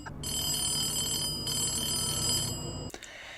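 A telephone bell rings in a Stranger Things episode, two bursts of bright, shrill ringing separated by a short gap, then cut off abruptly, with faint background underneath.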